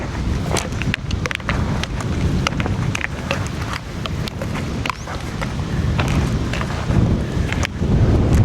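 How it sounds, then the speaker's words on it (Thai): Strong wind buffeting outdoors while a small two-compartment kite about 120 cm across is flown, a steady loud roaring rush with gusty surges and rustling, no talk over it. "ลมดีครับลมดี"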